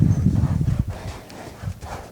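Hooves of an untrained Arabian stallion clip-clop across the ground in a steady, close rhythm, heavy low thuds at first then lighter, uneven steps.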